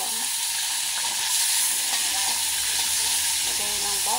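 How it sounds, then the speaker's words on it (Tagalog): Pork frying in a pan as chopped garlic is tossed in; a steady hiss of oil with light stirring clatter and a few utensil scrapes near the end, close and fairly loud, with no speech. "Ayan guys, lagay na natin yung bawang."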